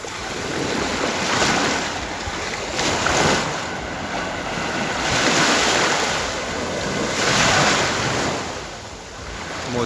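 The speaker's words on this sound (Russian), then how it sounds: "Море сегодня немножко неспокойное." Rough, unsettled sea at a beach in Kemer breaking onto the shore, a continuous broad wash of surf rising and falling in slow surges every few seconds, with wind noise and no talk.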